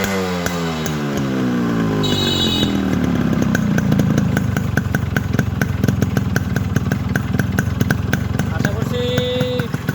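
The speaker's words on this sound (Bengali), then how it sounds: "বাইকটা সাউন্ড সবারই পছন্দ হবে সাউন্ডটা খুবই সুন্দর হয়েছে" A Yamaha RX 100 motorcycle engine runs close by, revving with rising and falling pitch at first, then settling into a loud, steady, rapid buzzing idle.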